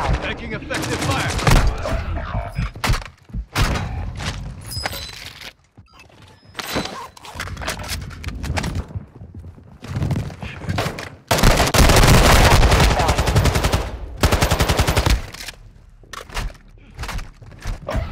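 Video game gunfire in Call of Duty: Modern Warfare II, with dense bursts and scattered single shots through a busy mix of game effects and occasional voice callouts, loudest in a heavy sustained volley late in the clip.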